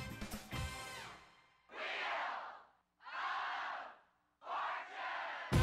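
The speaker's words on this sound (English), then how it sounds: "Looks like a nice crowd tonight, doesn't it?" A game show studio audience on Wheel of Fortune cheers and roars in three separate bursts of crowd noise, each about a second long, with brief silences between and a short voice at the start.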